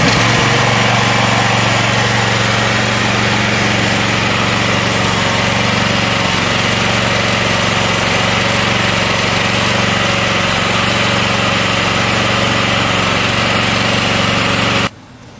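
A RockMaster well drill's small engine runs steadily at a constant, loud buzzing idle close by, then cuts off abruptly at the very end.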